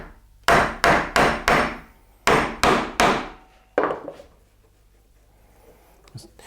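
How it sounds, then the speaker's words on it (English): A wooden chisel struck repeatedly by a mallet while cutting a mortise, about nine sharp close knocks in quick bursts of three or four, each with a short ringing decay, then quiet. "You'd have heard the tone change on the chisel there"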